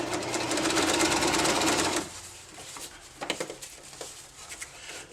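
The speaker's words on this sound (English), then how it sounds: "And then start sewing." A sewing machine stitches a fabric tube for a homemade kayak cockpit cover, running in a loud, fast continuous whir for about two seconds, then stopping and leaving a few light clicks and handling sounds.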